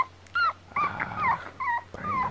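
A puppy whimpers close by: several short, high, wavering whines in quick bursts with brief quiet gaps between them.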